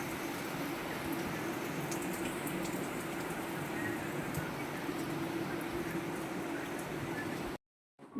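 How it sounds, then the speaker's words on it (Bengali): Dense, steady rain hisses and patters continuously at an even intensity, close and loud, then cuts off abruptly near the end. "এখন দেখুন কত জোর বৃষ্টি হচ্ছে"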